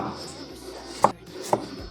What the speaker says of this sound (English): First, peel 2 tomatoes, and dice them up.